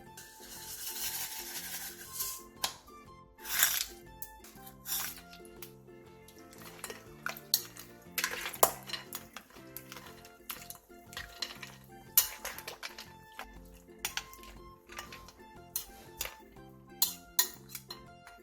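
Eggplant cold soup with green onion, hot green chili, water, ice and sesame seeds being stirred in a bowl, quiet clinking and scraping strokes of a utensil at an irregular rhythm, close and without talk.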